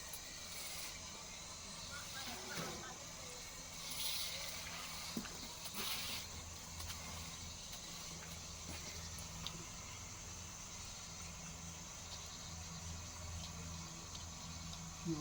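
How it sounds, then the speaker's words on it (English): Water from a running hose hisses steadily while polymeric paver joint sand is swept into the joints of a patio, a constant broadband wash with faint scraping and occasional brief knocks throughout. "with the water running."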